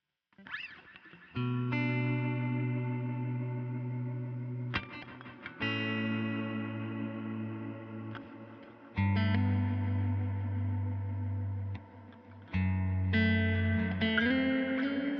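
Sustained electric guitar chords ring out through a modulated reverb pedal with a swirling shimmer, each new strum blooming and washing into the next, no voices.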